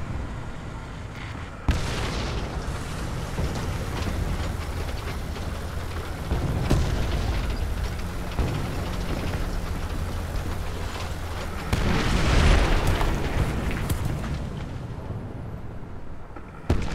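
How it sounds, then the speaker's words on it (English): Incoming artillery fire in War Thunder tank combat lands as a string of heavy explosions and booms over a constant rumbling engine bed, several blasts near and loud with a larger rolling detonation late on. "Some more artillery fire coming in"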